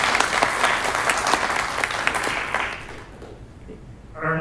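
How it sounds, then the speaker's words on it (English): A ceremony crowd applauds a graduating student at a spring white coat ceremony. The clapping is loud and sustained, then fades out abruptly, and a single voice begins speaking at the end. "Round of applause for"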